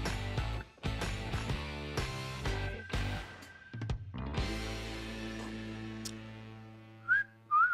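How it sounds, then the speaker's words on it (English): A person whistles a short, halting tune, with bright notes broken by pauses and small breathy gaps, close and fairly quiet. "It's better than some of your previous whistles."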